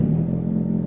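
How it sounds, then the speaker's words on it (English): Four-cylinder car engine running at a steady low rumble during a drive, a brief continuous hum with no voices. "The sound of 4 cylinders."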